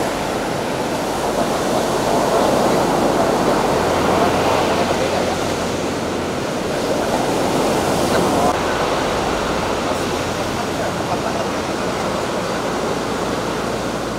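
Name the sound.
large ocean waves crashing on shore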